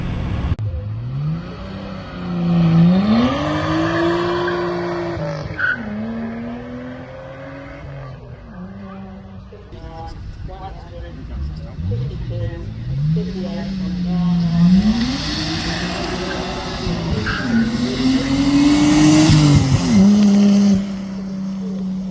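A Nissan Skyline GTS X HR31 revs hard up a hillclimb course during a Victorian Hillclimb Championship round, engine note rising and falling through gear changes as it drifts wide through a turn, loud and close throughout.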